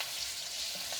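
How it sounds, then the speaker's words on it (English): Chicken pieces frying in hot oil for a crispy three pepper chicken dish, with a steady, close sizzle and crackle running through the whole short stretch and no talk over it. "You're gonna fry them until they get a nice scorch to them."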